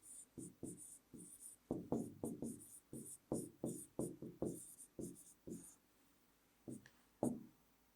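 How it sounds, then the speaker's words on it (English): A pen scratches across paper in quick, close strokes, a run of short scribbles with brief pauses, a final few marks after a gap, no voices. "Let me just write it down here."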